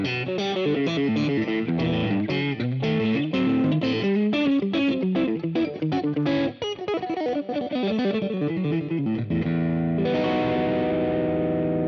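Fender Custom Shop Eric Johnson Signature Stratocaster electric guitar played through effects, a busy run of distorted notes with chorus and echo, closing on one sustained, shimmering chord that rings out alone.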